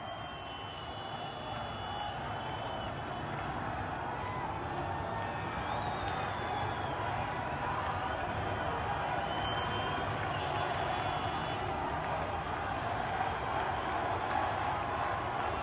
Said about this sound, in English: A lot of noise, a lot of crowd.